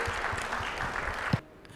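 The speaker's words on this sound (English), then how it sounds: "Big applause for these guys coming all the way." Applause from an audience at a UX design conference, moderately loud and continuous, ending abruptly near the close.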